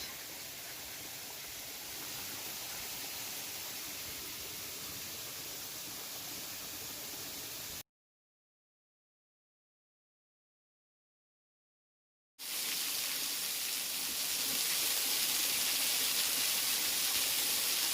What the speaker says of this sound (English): It's a great waterfall and a great hike.